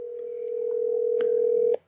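A telephone ringback tone sounds as an outgoing call connects, a single steady continuous tone heard close and clear, with a couple of faint clicks before it cuts off abruptly.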